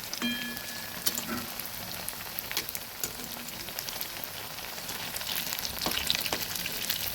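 Carrot pithe fry in hot oil with a soft, continuous crackling sizzle, dotted with small pops and a few light utensil scrapes, fairly quiet and close, with no voices.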